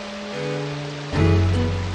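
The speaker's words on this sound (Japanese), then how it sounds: "雨というんじゃ。" Steady rain falls in the video game Other Life Azure Dreams, a continuous hiss that swells louder partway through alongside low tonal game music.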